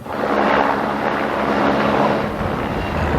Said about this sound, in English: I can see, and you can probably hear a helicopter.